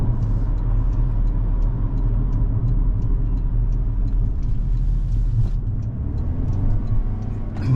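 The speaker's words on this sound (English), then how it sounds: "Obviously under load, this 2-liter inline 4 is going to be a little noisy" A 2024 Toyota Corolla Cross XLE AWD's 2-liter inline-4 engine under load, heard from inside the cabin as a steady, loud low drone and rumble mixed with road noise, continuous throughout with no speech.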